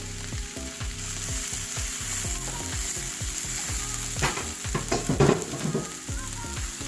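Meat lands in a hot pan and sizzles steadily under repeated scraping stirs with a spatula, gluten-free and dairy-free quiche filling, sizzle swelling briefly near the end, no voices.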